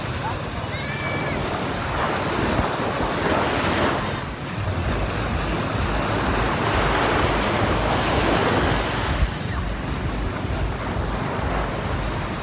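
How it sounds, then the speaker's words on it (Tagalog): Sea waves surge and wash continuously beneath heavy wind buffeting the microphone, with a brief faint voice near the start. "Maalong pala yung dagat, no?"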